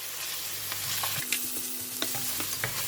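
Ginger and garlic paste frying in ghee in a pan, a steady sizzle with the scrape and clack of a spoon stirring now and then, close and fairly loud.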